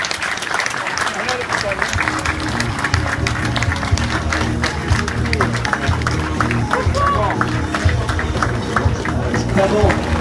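A crowd at a cycling race award ceremony claps steadily and loudly for a rider, a dense wash of applause that lasts throughout while an announcer talks over it.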